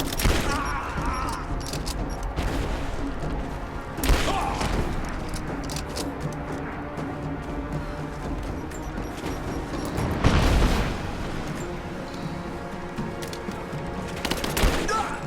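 Rifle gunfire rings out in Rise of the Tomb Raider during a fight against human enemies, with several loud, sharp shots spaced several seconds apart over a busy game soundscape.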